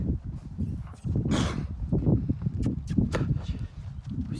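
Polish draft horses walking nearby, hooves clip-clopping in an uneven rhythm amid rustling and some background noise.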